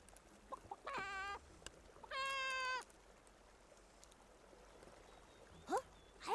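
Giant Barasant creature in a video game letting out two drawn-out, strongly pitched clucking calls close by, followed by short rising chirps near the end against a quiet background.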